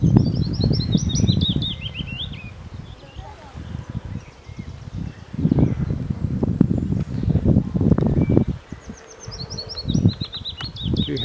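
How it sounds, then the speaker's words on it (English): A small bird sings repeated high trilling phrases in Ashdown Forest, heard at the start and again near the end, fairly faint, while people talk and walk nearby over rustling footsteps. "There's a bird singing over here."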